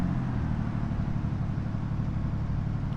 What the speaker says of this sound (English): Sounds like a proper diesel.